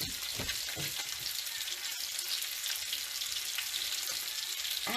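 A pat of butter hits a hot pan alongside lamb chops, setting off a steady, bright sizzle with crackling pops, close and continuous without any voices.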